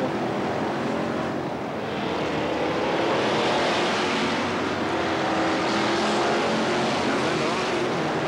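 Hotstox stock cars racing at Northampton in 1992, a dense, loud roar of many engines blending into a continuous wash with swelling passes, with faint commentary underneath.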